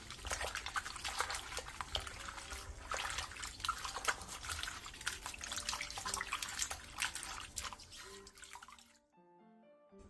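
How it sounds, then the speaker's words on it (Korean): Bellflower roots rinsed twice in water and rubbed briskly by hand, with continuous close splashing, sloshing and dripping that fades to quiet near the end. "도라지는 물에 2번 정도 벅벅 문질러가며 헹궈내준 뒤 물기를 충분히 빼놔주세요"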